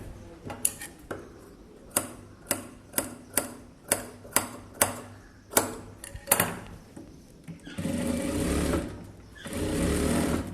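A sewing machine works along the edge of a blouse, first in a series of slow single clacking stitches, then in two bursts of fast continuous whirring, close and clear.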